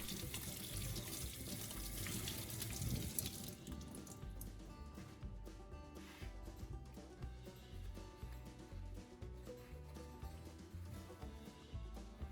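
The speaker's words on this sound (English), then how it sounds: "First, wash the lemons thoroughly and dry them completely." Lemons washed under a running kitchen tap: a steady hiss of flowing water into a sink, with splashing and intermittent knocks and dabs as the fruit is handled, fairly close and without talk.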